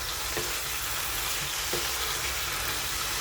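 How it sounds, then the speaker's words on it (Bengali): Salt and ground chilli spice mix frying in oil for a fish curry, a dense continuous sizzle with a couple of soft stirring scrapes, close and fairly loud, no voices. "মশলাটা ভালো করে কষিয়ে নেব।"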